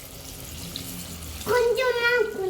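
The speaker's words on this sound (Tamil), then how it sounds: "புளி தண்ணி போட்டுக்கலாமா?" Tamarind water is poured into a pot of village-style dried fish curry, a soft wash of liquid noise that swells into a rising, ringing gurgle as the vessel fills, close and fairly loud.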